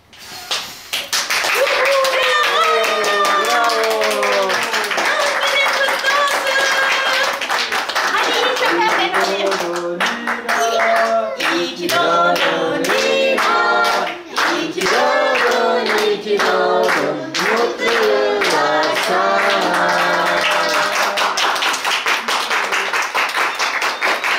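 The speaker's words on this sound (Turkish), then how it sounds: "Hadi kocaman bir alkış yapacağız üfleyince." Children and adults clap together at a birthday party after the candles are blown out, loud close clapping mixed with singing and excited voices in an indoor room.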